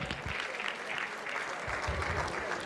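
Audience applause for Christopher at a comedy show, a dense sustained clapping from a crowd that carries on throughout, with murmured voices mixed in.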